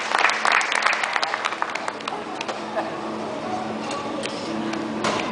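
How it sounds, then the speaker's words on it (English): Steady applause from an audience at a latte art barista competition in Las Vegas, dense clapping sustained throughout at moderate volume with some crowd noise. "Let's give him a round of applause, everybody."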